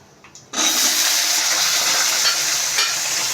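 Chillies drop into hot oil with mustard seeds and fenugreek and burst into a loud, steady sizzle right after a brief quiet moment, continuing close and unbroken to the end with no talk.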